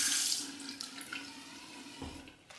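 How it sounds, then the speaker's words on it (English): A tap runs with a steady, close hiss of flowing water onto a shaving brush, tapering off near the end. "Let's add a little bit of water."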